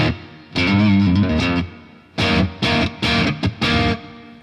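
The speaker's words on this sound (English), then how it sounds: "let's turn on reverb" Electric guitar played in bursts of chords and short stabs through a PolyChrome DSP reverb effect, with a washed, spacious reverb tail lingering between phrases.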